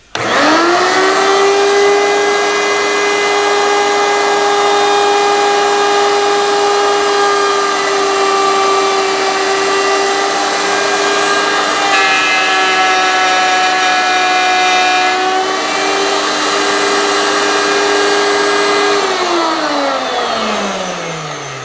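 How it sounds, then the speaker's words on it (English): A router cutting a keyway slot for hanging a plaque, a loud high-pitched motor whine spinning up quickly, holding steady with a slight load shift midway, then winding down at the end. "Got to turn the router on too."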